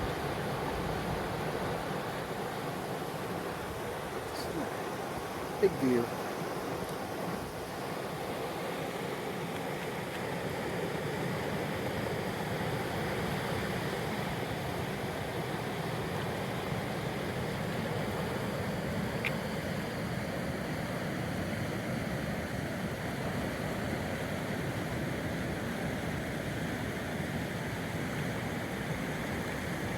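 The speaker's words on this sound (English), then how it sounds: "Kind of a little bit of white water going on." White water rapids rush along a stream on the Alder Flats Trail, a steady broadband roar that holds evenly throughout, with a brief faint voice near the start.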